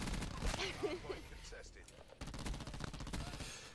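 Video game gunfire, rapid bursts of automatic shots near and loud, breaking off briefly and then resuming in a dense volley, with people talking over it.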